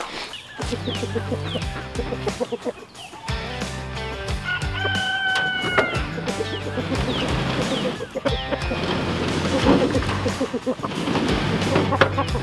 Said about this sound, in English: right here in this chicken tractor is a number of roosters